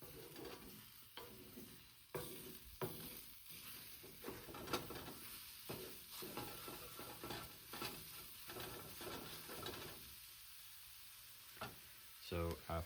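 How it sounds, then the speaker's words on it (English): Eggs cook in a pan on the stove while a utensil stirs them, the soft sizzle punctuated by repeated scraping strokes against the pan surface, quiet and close. "You want to stir it so that you don't end up cooking any one part of the egg too much."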